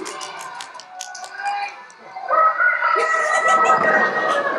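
A man imitates a rooster with his voice, a loud close crowing cry that rises and stretches out into a long, warbling cock-a-doodle-doo, with brief talk before it.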